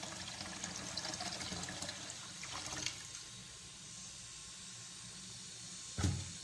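Water poured into a pot of Hadrami rice on the stove, a steady soft hiss and trickle that eases off midway, ending in a brief louder splash, faint and close.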